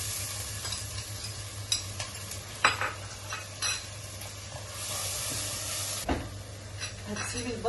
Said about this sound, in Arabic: هننزل بالبصله